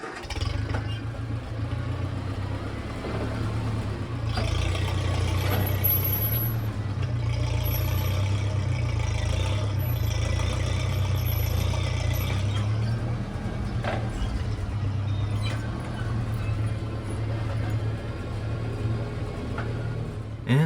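A tractor with a cheap backhoe attachment and grapple runs steadily through a test lift, its engine a loud, continuous low rumble with occasional hydraulic strains and clanks, no talk over it.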